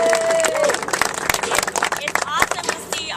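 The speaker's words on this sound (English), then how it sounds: "give a round of applause for Lila Rose of Live Action" An outdoor protest crowd in Durango, Colorado claps and cheers to welcome Lila Rose of Live Action, scattered uneven clapping with crowd voices and a few whoops, fairly close, rising and falling over a few seconds.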